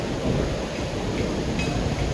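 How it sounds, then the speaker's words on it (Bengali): Heavy rain pouring steadily, a dense continuous roar of falling water with no pauses and no voices. "প্রচন্ড বৃষ্টি বাবা,"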